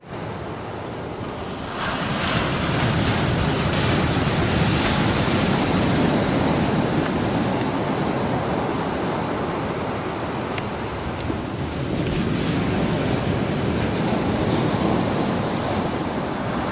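Ocean waves rolling onto a beach with wind buffeting, a continuous loud rush of surf and breeze with no voices.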